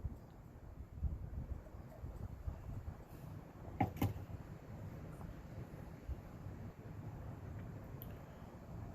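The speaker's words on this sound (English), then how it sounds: "The wind's cutting me." Wind blows outdoors across the microphone in low, rumbling gusts that rise and fall steadily, with a brief sharper buffet near the middle.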